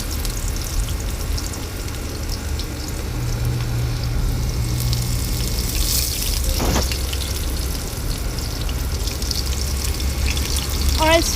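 Garlic sizzling in a pan of oil for tomato spaghetti, a continuous crackling hiss with a low hum underneath and a brief clatter midway, close and steady.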